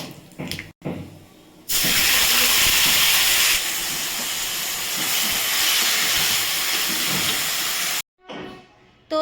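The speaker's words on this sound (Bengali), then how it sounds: "কড়াইটা গরম হয়ে গেছে তেলটা দিয়ে দিয়েছি দুটো শুকনো লঙ্কা দিলাম আর একটু কালো সর্ষে দিলাম" Dry red chillies and black mustard seeds hit hot oil in a heated kadai, setting off a loud, steady hissing sizzle for about six seconds that then cuts off abruptly.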